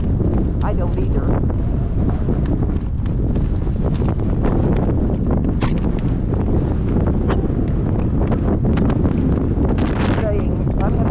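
Strong gale-force wind roars and buffets the microphone continuously, with faint hoof clip-clop of a young horse trotting into it in the background; a voice is heard briefly.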